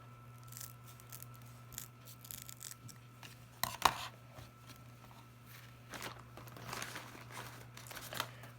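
Scissors snip excess material from a daisy craft, making quiet crisp cuts mixed with crinkling and rustling handling noises over a low steady hum.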